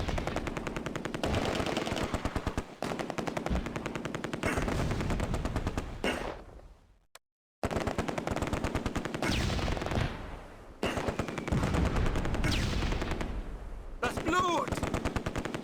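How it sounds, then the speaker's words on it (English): Rapid machine-gun bursts and gunfire crackle loudly and almost without pause during a World War II battle in the Close Combat: A Bridge Too Far video game near Oosterbeek, with a mortar shifting fire; two brief silent gaps break the barrage. "Duval's mortar shifts fire to target that squad."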